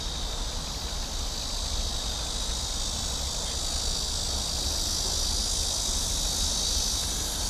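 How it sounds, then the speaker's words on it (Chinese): Cicadas drone in a lakeside park in summer, a dense, continuous high-pitched buzzing that holds steady and loud from start to finish with no voices over it. "耳畔呢传来的是阵阵的蝉鸣。"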